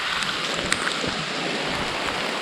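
Torrential rain pours down during a 100-mile trail race, a dense, steady hiss of heavy drops hitting the ground and surfaces close by, unbroken for the whole stretch.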